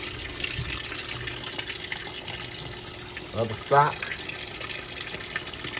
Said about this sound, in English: Make sure they get in that good soapy water.